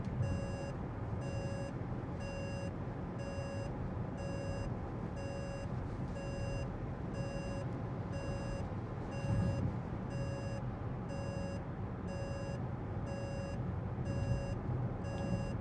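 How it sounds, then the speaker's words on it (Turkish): Repeated warning beeps from a KGM Torres EVX electric SUV's steering alert, a steady regular series of short tones sounding throughout over a constant low road and cabin rumble while driving. "Sesli uyarı da geldi."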